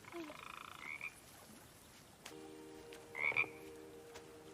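Frog croaking in a reaction to The Book of Boba Fett, a faint rattling croak trill followed by a few softer chirping calls over quiet background hiss.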